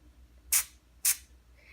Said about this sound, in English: this concentrated spray, I'm going to try to spray it.